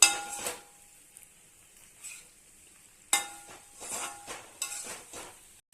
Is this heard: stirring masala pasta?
yes